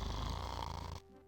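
Snoring from a character in the Gabriel Knight adventure game, one continuous loud rasping breath that fills about a second before cutting off to near silence.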